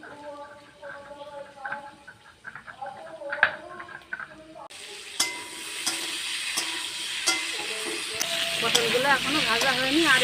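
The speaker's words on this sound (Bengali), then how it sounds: "পটলগুলো এখনো ভাজা হয়নি, আর একটুখানি হবে," Pieces of pointed gourd (potol) frying in a pan in a home kitchen give off a loud, close sizzle and hiss that swells midway, with scattered stirring knocks and a voice talking over it.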